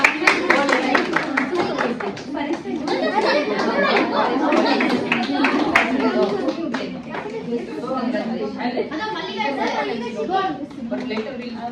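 A group claps at a nurse's day celebration: a burst of close, sharp handclaps that thins into scattered clapping, with lively chatter and voices talking throughout.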